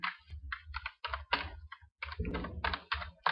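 Bursts of fast typing on a computer keyboard, with clusters of crisp close key clicks separated by short pauses and a heavier clatter near the middle.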